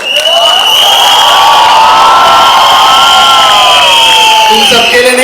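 A loud crowd of fans cheers and shouts continuously at a celebrity public appearance, with high whoops and yells sustained throughout.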